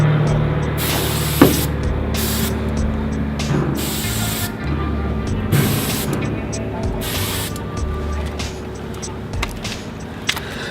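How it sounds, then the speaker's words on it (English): A spray paint can lays down a graffiti letter A in a series of short, loud hissing bursts separated by brief pauses, over a steady background rumble. "if you notice the way I sprayed this A, it's a little bit different than how I did it before"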